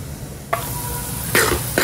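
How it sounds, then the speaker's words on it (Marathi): Boiled vegetables for pav bhaji are mashed beside an onion-tomato mixture frying in the pan, giving a steady close sizzle punctuated by three sharp scraping, pressing hits. "आपल्या ज्या उकडलेल्या भाज्या होत्या त्या थोड्या स्मॅश करून घेऊया"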